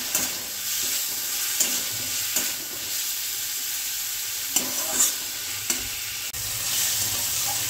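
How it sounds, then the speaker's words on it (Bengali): Spices and tomato fry in a pan for a chicken dish, giving a continuous loud sizzle and hiss. Occasional clacks of a stirring utensil come through, with no talk. "মশলাটা ভাজার জন্যই টমেটোটা আমি আগে দিয়ে দিলাম, যাতে ওখান থেকে টমেটোর যে জলটা বেরোবে তাতে কিন্তু মশলাটা ভাজা হবে"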